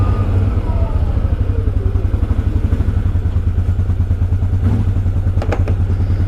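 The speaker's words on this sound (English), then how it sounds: "It's only running on 1 cylinder half the time." A 2019 Can-Am Outlander 650 XMR ATV engine idles close by, firing on only one cylinder. It gives an uneven, loping chug of rapid thumps with a faint clatter near the end.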